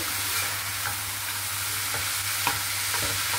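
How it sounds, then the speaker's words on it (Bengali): Bottle gourd greens fry in a pan with crushed fried lentil dumplings, giving a steady close sizzle with a few light stirring scrapes and taps and no speech. "এখন আমি সুন্দরভাবে একটু ভাজা ভাজা করে নেব।"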